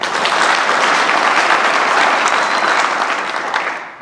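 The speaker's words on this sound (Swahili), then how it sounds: "Tujipigie makofi wote." A crowd at a Yanga football club members' meeting gives dense, sustained applause close by, holding steady and then fading away at the end.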